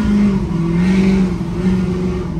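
Lifted Ford F250 truck on big tires accelerating, a loud close engine drone with a steady low tone that rises slightly, alone without talk.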